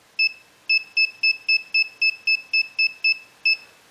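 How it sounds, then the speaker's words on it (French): An Arduino buzzer gives about a dozen short, sharp, high beeps in a quick, even rhythm, each cutting off cleanly into near silence between pulses. "quand les LED sont allumés, le buzzer est silencieux, et quand les LED sont éteintes, le buzzer sonne"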